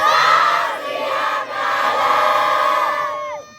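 A crowd of Sikh worshippers roars a jaikara war cry in unison at a village martyrdom-day gathering with a hair-keeping competition, one loud sustained collective shout rising and held for several seconds before fading.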